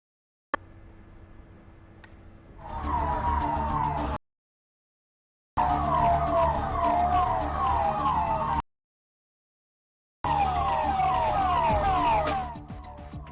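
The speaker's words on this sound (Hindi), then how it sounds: "जरूरत की एक किरण है दौड़ती भागती ये एम्बुलेंस।" An ambulance siren wails loudly as the vehicle drives, heard in three bursts broken by short silent gaps, with no talking.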